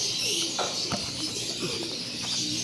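Racing pigeons coo softly over a steady background hiss, a few low, rolling calls spread across a couple of seconds.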